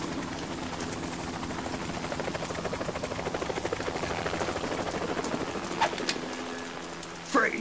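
A helicopter in the Metal Gear Solid 2 video game gives off a steady, loud rotor thump and engine whine throughout, with brief sharp sounds near the end.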